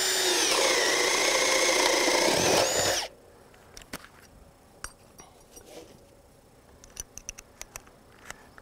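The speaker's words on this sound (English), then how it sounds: "Slowed it down a little bit. 7/8, and just a reminder, we're still on speed 2." A Ryobi 18V ONE+ HP compact brushless drill on speed 2 bores a 7/8-inch hole through wood, a loud close grinding whine for about three seconds, then it cuts off and light clinks and taps follow.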